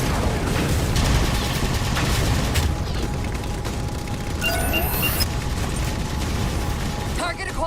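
Railgun firing in the Halo 4 video game, loud dense rumbling blasts and mechanical whirring with a rising electronic charge-up whine, amid constant battle noise and voices.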